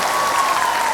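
An audience at a Chin cultural festival in Singapore claps in continuous, dense applause, loud and close for the whole short stretch.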